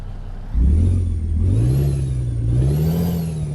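A custom Peterbilt 351 truck engine in American Truck Simulator fires up after a short pause, then idles and revs in slow rising and falling swells, loud and close with no talk.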